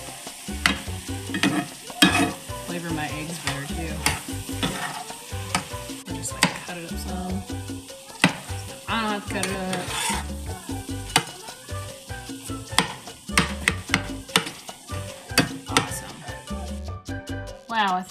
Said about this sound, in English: Think about just melting the butter slowly with it.